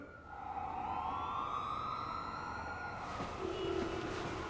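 A siren wails and sweeps in rising and falling tones through a scene in the Korean film 'Holy Daddy', holding loud and steady for the whole stretch, with a second, lower siren tone joining near the end and no voices.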